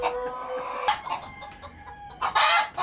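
A giant Buff rooster, a US breed weighing up to 9 kg, clucks and then crows loudly, close by on a farm in Kenya.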